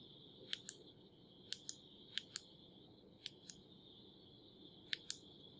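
Crisp close clicks come from a TRKR 140 flashlight switch being pressed, falling mostly in quick pairs, about five pairs and a single click over several seconds, in an otherwise quiet room.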